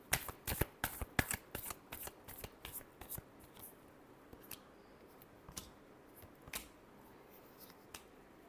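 Tarot cards are shuffled by hand in rapid riffling bursts, close and crisp, thinning out into a few scattered flicks toward the end in an otherwise quiet room.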